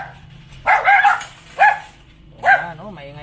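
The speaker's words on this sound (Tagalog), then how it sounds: "Ayan, maingay po yung aso namin." Dogs at a home garden give three sharp barks, close by and spaced irregularly, over a quiet background.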